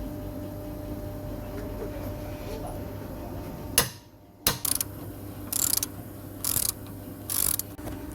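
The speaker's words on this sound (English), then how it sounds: "take the shock absorber bolt off, size 18mm spanner on one side, socket on the other side" A socket and spanner working on a shock absorber bolt of an Audi A6 C6: a steady low hum, then several short bursts of close ratcheting clicks in an uneven rhythm.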